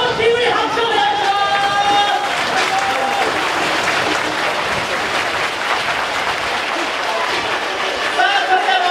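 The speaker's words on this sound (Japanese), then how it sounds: "皆さん、改めて素晴らしい入場をしてくださった両チームに拍手をお願いします" A stadium crowd at an American football bowl game in Kyushu applauds steadily for the two teams' entrance, broad sustained clapping with an announcer's voice over it at the start and end.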